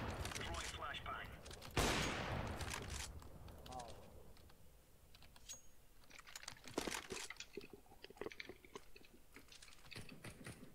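Gunfire in a video game shooter, rapid bursts of shots and sharp cracks mixed with clicking keyboard typing, fairly faint, with players talking over it.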